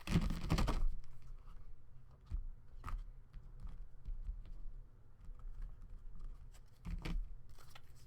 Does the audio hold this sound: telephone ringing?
no